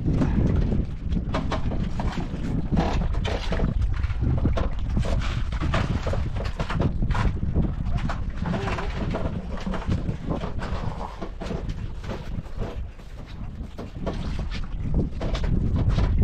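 A boat carries passengers out to a private island, its engine and hull giving a steady broadband rumble mixed with wind buffeting the microphone and splashing water, continuous and close throughout.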